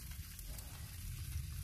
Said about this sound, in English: That's corn on the cob sizzling.